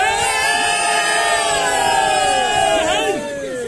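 Spectators at a bullfight in Kutanja cheer and shout loudly as a dense crowd, with whoops and whistle-like calls rising over a steady roar that eases slightly near the end.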